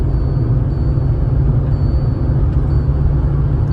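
Hyundai i20 hatchback accelerating hard in fourth gear at around 130–140 km/h during a drag race against a Maruti Swift, a steady loud low engine and road drone with wind noise, no voices.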